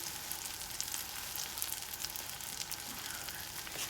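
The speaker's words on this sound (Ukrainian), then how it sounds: "як тільки це смажиться" Steady, dense sizzling of mushrooms frying in a hot pan, a continuous crackling hiss with no voices.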